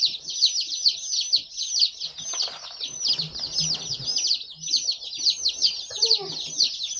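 Bantam chicks in a Cackle Hatchery shipping box keep up a constant chorus of shrill, rapid peeping, close and loud, with a quiet voice murmuring briefly underneath.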